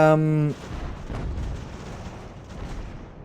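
Cannon fire in the battle game Ultimate General American Revolution: after a brief tonal game sound, a muffled low boom rolls out and decays into a dull, rumbling battlefield wash.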